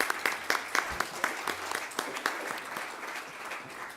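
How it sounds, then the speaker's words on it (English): An audience at a science and innovation conference applauds after the final keynote, scattered claps at first that settle into a steady, fairly quiet patter, heard from a distance in a hall. "So join me on applause for the last keynote."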